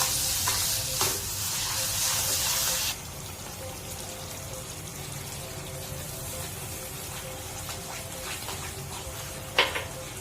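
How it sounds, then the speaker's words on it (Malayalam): Sugar stirred into rava kesari in a pan, giving a steady scraping stir with a brighter hiss for the first few seconds, then a softer continuous stirring with a sharp clink near the end. "ഇതിലേക്ക് നമുക്കിനി ഷുഗർ ഇടാം."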